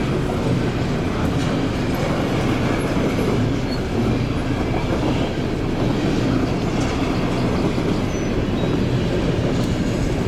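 A train rumbles steadily past on the rails, a loud, continuous low roar with faint rhythmic clatter throughout and no voices.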